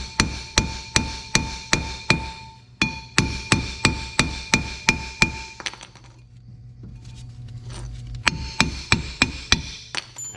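A hammer strikes the rear brake drum of a 2001–2005 Honda Civic in three quick bursts of sharp, ringing metallic taps, about eighteen blows in all, close and loud with a short pause between bursts.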